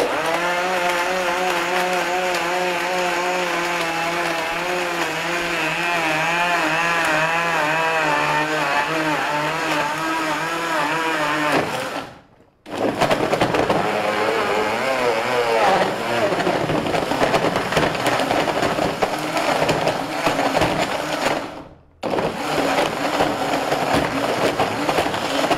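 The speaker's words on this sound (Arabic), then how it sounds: "هنفرمهم ببذرهم وهنشوف فعلا الخلاط هيقدر يفرمهم ولا لا" A powerful Egyptian-made blender grinds mango with its seeds, ice and a little water, its loud motor whine shifting in pitch as it chops, with two brief stops before it starts up again.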